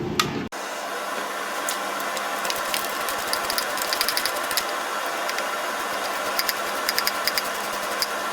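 A ratchet with an 8mm socket works on intake manifold bolts of a swapped engine, its clicks ticking steadily and close over a constant mechanical hum, with no voices.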